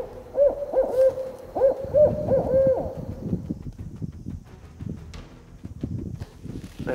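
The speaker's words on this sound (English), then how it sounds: "I hope the mic picked up that owl." An owl hoots repeatedly in a short rhythmic series over the first three seconds, moderately near, on an island shore at dusk during a paddling trip, followed by rustling and wind-like noise.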